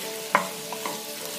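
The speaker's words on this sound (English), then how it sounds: "they're just kind of stir frying these here with just the olive oil" Potatoes in olive oil sizzle softly with a few scraping stirs as they are moved around a pan; a steady low fry hum beneath occasional clinks.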